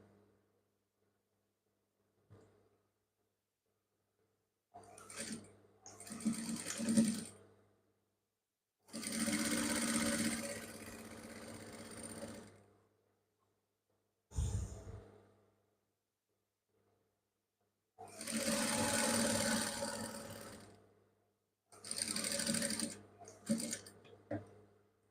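A sewing machine stitching trouser seams runs in several separate bursts of steady whirring, each a few seconds long, with quiet pauses between them.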